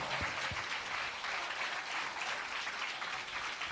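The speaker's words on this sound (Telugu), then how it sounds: "నమ్మినట్లయితే చప్పట్లు కొడుతూ Put your hands ప్రభుని స్తుతిద్దాము." A church congregation claps hands in praise during a sermon, a faint, steady patter of many hands continuing throughout, with a couple of soft low thumps near the start.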